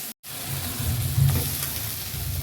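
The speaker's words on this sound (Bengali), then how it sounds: "মশলাটা ভালো করে কষে নেব" Spice masala frying hard in a pan for a jackfruit curry with potato, a steady loud sizzle with a brief dropout near the start and a swell of bubbling in the middle.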